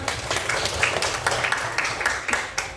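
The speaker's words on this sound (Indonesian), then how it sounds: "Tepuk tangan untuk Aina." Classroom applause from a group of students, a steady patter of many hands clapping at moderate volume for a few seconds, with no talk over it.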